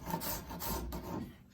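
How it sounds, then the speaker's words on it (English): A spokeshave trimming a thin wooden pattern in a boatbuilding class, quiet raspy scraping strokes repeated a few times in a steady back-and-forth rhythm, close up with no talking. "most people will hold a spoke shave with two hands for heavier work"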